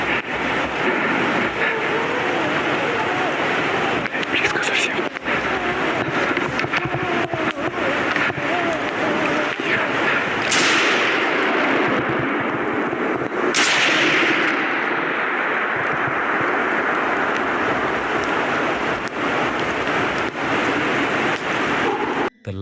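Gunshots fired into the dark outdoors: two sharp, loud reports cut through steady rain-like noise and wind midway, with a voice talking over the constant hiss.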